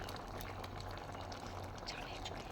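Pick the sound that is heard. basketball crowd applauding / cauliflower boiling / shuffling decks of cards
cauliflower boiling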